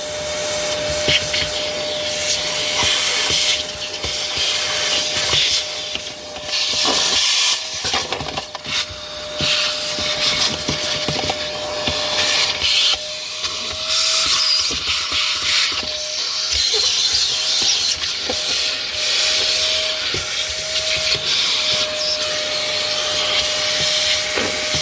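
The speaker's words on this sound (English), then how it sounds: "so I finished vacuuming and wiping down the dash and everywhere inside here" A vacuum cleaner works inside a 4WD after a day of beach driving, a steady loud whine and rushing suction that shifts as the nozzle moves, with occasional knocks and clatter against the interior.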